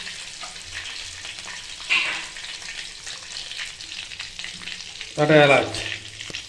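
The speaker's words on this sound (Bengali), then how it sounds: "তেলের মধ্যে একটা কাউচুলি কাঠ দিয়ে দিচ্ছি, দুটো লং দিয়ে দিচ্ছি" Cinnamon stick and cloves sizzling in hot oil, a continuous frying hiss with two louder spitting bursts as spices are added, and a short spoken remark over the second burst.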